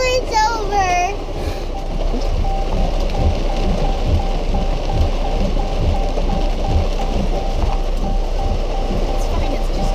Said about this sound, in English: It's fine. It's just rain.